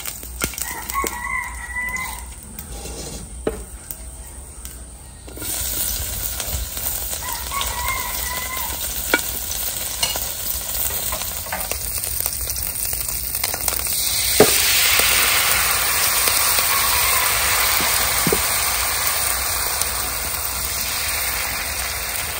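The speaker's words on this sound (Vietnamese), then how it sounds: "Giờ mình bắt đầu chiên bánh." Bánh xèo pancake batter with small shrimp fries in a heavy pan, giving a steady sizzle that swells louder partway through, while a rooster crows and chickens cluck nearby in the rural surroundings.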